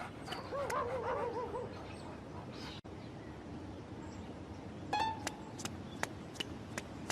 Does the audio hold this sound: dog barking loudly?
yes